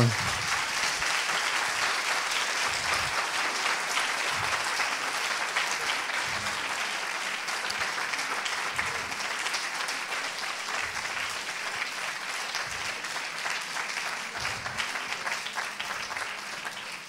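Sustained audience applause filling an evening talk hall after Christophe André is introduced, dense and steady clapping throughout with occasional low thumps, no voices over it.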